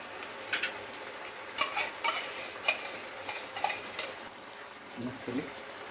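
Tomato puree hits hot oil in a pan for a South Indian Chettinad chicken curry, giving a soft steady sizzle with scattered scraping stirs and spoon clinks.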